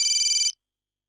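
Electronic mobile phone ringtone for an incoming call, a bright warbling tone pulsing rapidly for about half a second before cutting off abruptly into silence; no voices.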